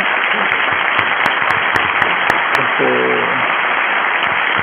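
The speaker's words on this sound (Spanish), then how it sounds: "podemos cerrar con un fuerte aplauso" An audience gives loud, continuous applause to close a teleconference, and the clapping sounds thin and narrow, as if carried over a remote call link. A brief tonal voice-like sound rises partway through.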